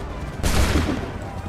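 A volley of musket fire in the Assassin's Creed 3 PC game erupts as one loud, ragged crackling burst after a short stretch of quieter ambient noise, then rumbles on briefly.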